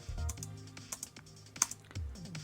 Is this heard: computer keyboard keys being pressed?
yes